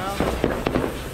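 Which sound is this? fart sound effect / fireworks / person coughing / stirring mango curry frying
fireworks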